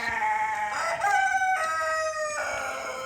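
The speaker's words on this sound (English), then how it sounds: "We see one guinea fowl is right there." Guinea fowl call repeatedly nearby in an outdoor yard, harsh shrill bursts in quick succession with brief gaps, fairly loud and alone without talking.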